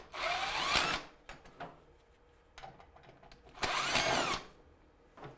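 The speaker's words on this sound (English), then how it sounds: "we're going to take these 2 screws off to remove the second cover plate" A power drill backs out the screws on a heat pump water heater cover plate in two quiet, roughly one-second whirring bursts with a short pause between them and faint clicks.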